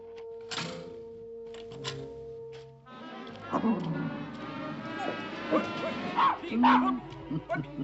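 A small terrier-type dog yips, whimpers and gives short barks indoors at night in an old Edinburgh setting, a few sharp high cries scattered over several seconds amid quiet room sound.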